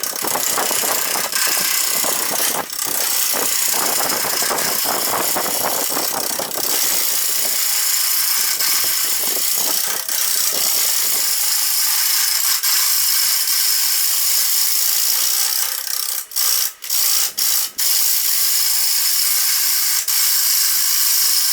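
A wood lathe turns a large spalted cherry bowl blank, a steady high whirring hum with scraping tool contact early on, then the motor drone continues alone with a few brief clicks near the end.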